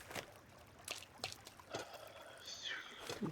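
Water trickles and drips in Sons of the Forest, faint and intermittent, with small splashes and a brief higher whistle-like sound near the end.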